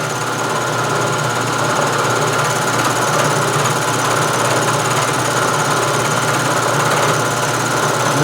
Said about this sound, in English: I'm just going to climb mill around. Generate a nice radius.